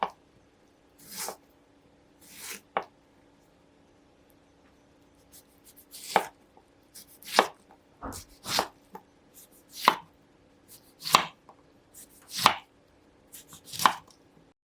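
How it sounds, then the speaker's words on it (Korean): A knife chops two tomatoes into potato-sized pieces: crisp, irregular cutting strikes, some in quick pairs, fairly close and alone against a quiet kitchen. "토마토 2개는 감자와 비슷한 크기로 써세요."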